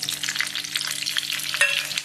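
Mustard seeds, garlic, chillies and curry leaves crackle and sizzle in hot oil for a radish sambar tempering, a dense close spattering with quick popping bursts, no voices.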